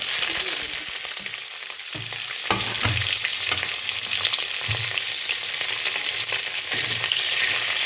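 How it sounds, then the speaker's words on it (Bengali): Nigella seeds and green chillies frying in a couple of spoons of hot oil, a loud continuous close sizzle with some stirring clatter underneath throughout. "আমি দু স্পুন মতো তেল দিয়ে দিলাম এবারে আমি কালো জিরে আর কাঁচা লঙ্কাটা"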